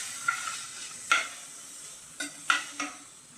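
Food stirred in a pan with salt and other ingredients, a soft sizzle underneath and about five distinct scraping strokes spaced irregularly, fairly quiet and close, no talk.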